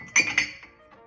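Glass dishes clink together while being put away after drying, two quick bright chimes in succession followed by a softer tap, close by with no talking.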